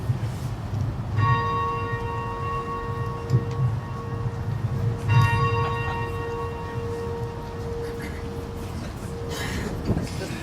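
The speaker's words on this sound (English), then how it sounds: "will be the second bell and will be rung by Professor Robin McCabe" A memorial carillon bell at the UW rings out, struck by hand: two clear resonant strikes a few seconds apart, each sustaining a long bright hum, over a busy low background rumble.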